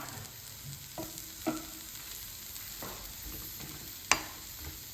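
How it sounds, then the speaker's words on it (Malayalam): Grated coconut roasting dry in a pan for Onam sambar, with a steady low crackle broken by occasional scrapes and clinks of a spoon stirring, one sharper metallic knock near the end. "ഈ തേങ്ങ വറുക്കുന്ന സമയം കൊണ്ട് നമുക്ക് വെണ്ടക്കായ വറുത്തെടുക്കാം"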